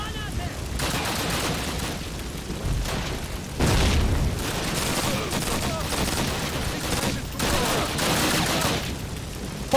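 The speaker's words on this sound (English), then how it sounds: "That's a grenade!" Grenade explosion and bursts of gunfire in the Call of Duty: United Offensive video game on Veteran mode, with dense, loud battle noise throughout, a heavy boom near the middle and repeated volleys, while a person talks over it.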